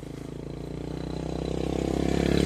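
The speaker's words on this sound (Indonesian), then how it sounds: "Ada beberapa kendaraan yang melintas yang didominasi oleh kendaraan roda empat saja" Road traffic passes along a flat street, mostly four-wheeled cars, as an engine rumble swells steadily louder over a couple of seconds, with no talking.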